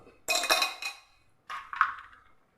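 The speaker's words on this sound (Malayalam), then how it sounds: "ഇനി നമുക്കൊരു ഗ്ലാസ് വെച്ച് വെക്കാം. അതിലേക്ക് ഒരു 3 ഐസ് ക്യൂബ്," Three ice cubes dropped into a drinking glass while preparing a lemon drink, giving two short bursts of bright clinking and rattling a moment apart, close and fairly loud.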